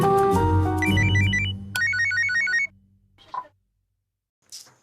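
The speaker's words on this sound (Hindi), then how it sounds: "विभू को फोन करते हैं।" A phone ringing tone on a call, a repeating electronic melodic trill over musical backing that cuts off abruptly, followed by faint brief sounds.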